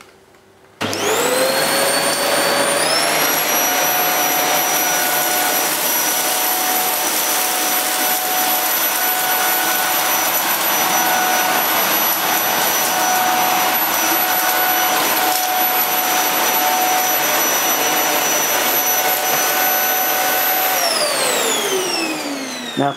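A Vax Air 3 Max bagless upright vacuum cleaner switches on, its motor whining up to a steady loud roar that holds for about twenty seconds before spinning down at the end.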